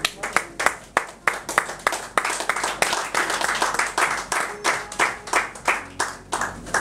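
A church congregation at a French-language worship service claps in rhythm, steady sharp hand claps repeating throughout at a brisk even pace, close and lively, with faint voices mixed in.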